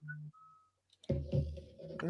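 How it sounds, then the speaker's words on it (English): A short whistled melody of a few thin, steady pitched notes, fairly quiet, followed by people talking loudly over one another. "Why are you whistling?"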